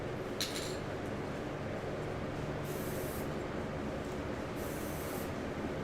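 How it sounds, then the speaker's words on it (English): Spray paint can hissing through a nozzle cap in two separate bursts of steady, fairly close hiss, with a brief clink just before the first. "spray painting is a little easier to use than airbrush because it's just a press down and lift off"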